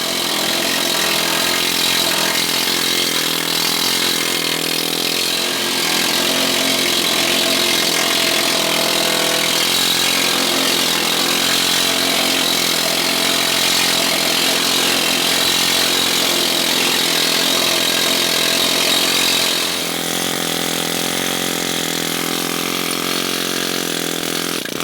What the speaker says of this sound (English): while I had the needle gun out, I started continuing on the sides just to start removing some of the corrosion and the paint.